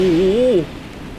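Steady hiss of rain falls during a storm in the Roblox desert driving game A Dusty Trip, with a souped-up pickup on a slick road; a short gliding voice-like tone rides over the rain at the start.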